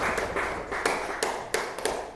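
Applause from a classroom of students during a lesson, a soft scattered patter of claps with a few sharper taps standing out.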